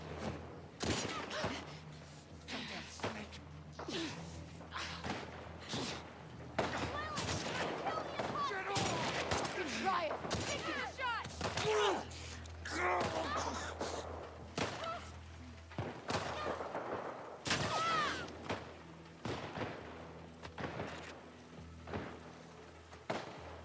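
Gunfire rings out in The Last of Us Part II on Grounded difficulty, a dense stretch of repeated sharp shots and bursts mixed with chaotic game sounds. Voices talk intermittently throughout.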